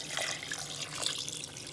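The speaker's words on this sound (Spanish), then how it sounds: "ahora le voy a poner 4 tazas de agua" Water pours from cups into a cooking pot of vinegar, chiles and garlic, a steady splashing, gurgling stream heard close and alone.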